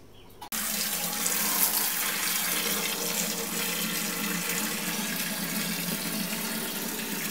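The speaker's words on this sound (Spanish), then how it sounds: "voy a por el agua del grifo" Tap water gushes steadily from a household faucet, starting abruptly after a brief quiet moment and then running as an even, close, loud splashing stream with no talk.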